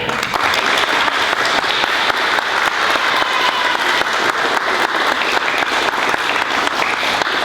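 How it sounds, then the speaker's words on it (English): Steady, loud applause from an audience at a fifth grade recognition day as students stand at the front, dense clapping that holds evenly for several seconds with no talk over it. "we'll give them a round of applause"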